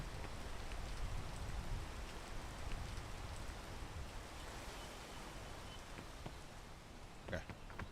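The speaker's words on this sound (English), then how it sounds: "Rain, go away, please." Steady rain falls in the video game Persona 5: The Phantom X, a dense continuous hiss with scattered droplet patters throughout.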